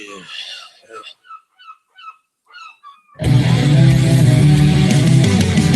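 Seagull-like honking calls in a short series of separate squawks, loud and close, followed by an abrupt burst of loud dense noise that takes over.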